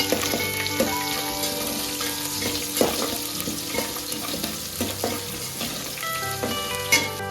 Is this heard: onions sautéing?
yes